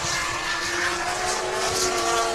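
Formula Drift Japan round in 2015, with a D-Max S15 and an LS-powered Hyundai Genesis Coupe on Nitto tires drifting. A steady, loud engine roar carries throughout, with sustained tones and a broad noisy wash, close and continuous with no talk.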